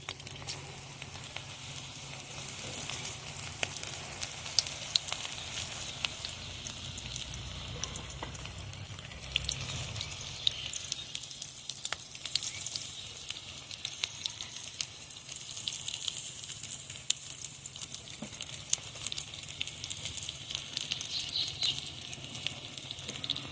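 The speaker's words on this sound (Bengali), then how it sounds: "এখন আমি একটা একটা করে পাকোড়া দিয়ে ভেজে নেব।" Crispy cabbage pakoras frying in hot oil in a wok, a faint, steady crackling sizzle with scattered pops and light taps over a long stretch, with no one talking.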